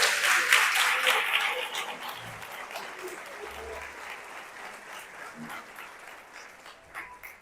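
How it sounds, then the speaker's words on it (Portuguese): Congregation in a church service applauding, a dense wash of many hands clapping that starts loud and gradually thins and fades over several seconds. "Aplauda o Senhor mais uma vez, que Ele merece."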